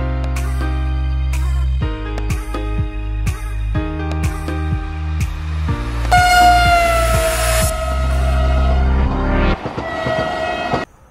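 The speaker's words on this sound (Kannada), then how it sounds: "ಈಗಂದು ಕೇರಳಕ್ಕೆ ನ್ಯೂ ಮಾಡೆಲ್ ಕೇಸರಿ ಕಲರ್ನ ಒಂದೇ ಭಾರತ್ ಎಕ್ಸ್ಪ್ರೆಸ್ ಬಂದಿದೆ" A new-model saffron Vande Bharat Express train with sixteen coaches passes close by in Kerala. Rhythmic wheel clacks run over the rails, and a loud, blaring horn blast sounds midway before the train fades.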